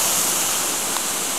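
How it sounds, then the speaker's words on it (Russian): Water rushes steadily over the wheel of an old wooden water mill in Oboyan, Kursk region, Russia, a constant hissing splash heard close and alone, unbroken throughout. "и вода крутит это колесо"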